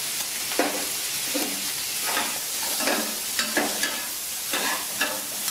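Beef tripe is stir-fried in a pan, a steady loud sizzle broken by regular scraping strokes of the spatula every second or so, with no talking.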